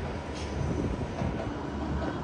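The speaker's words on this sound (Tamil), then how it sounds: "மெட்ரோ போகுது பாருங்கள். Metro train." A metro train passes near a residential tower in Anna Nagar, producing a steady rumbling roar of wheels and carriages, moderately distant and continuous for the whole short stretch.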